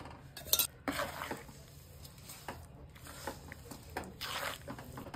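Salt, ground spices and whole spices being stirred together for a mixed vegetable pickle, heard as close scraping and clinking of a spoon against a metal vessel in irregular bursts, with no voices.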